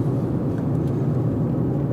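Steady low rumble of road and engine noise inside a car being driven to the airport in Los Cabos, constant and even throughout.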